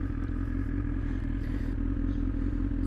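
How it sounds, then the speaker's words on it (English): A motorcycle's exhaust drones in a low, continuous throbbing rumble close by, holding a steady engine note with faint clattering mixed in and no voices. "You can hear the exhaust"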